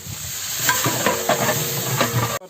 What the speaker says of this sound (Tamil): புதினா கொத்தமல்லி வதக்கியாச்சு